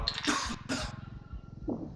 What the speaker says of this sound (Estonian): see oli nagu mängu sees köhi